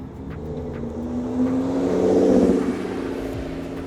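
A Toyota at a car meet accelerates, its engine note climbing to a loud swell near the middle and then easing off, a single sustained pass heard without talking.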